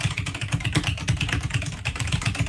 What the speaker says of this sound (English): Okay, do your clicking on your mechanical keyboard.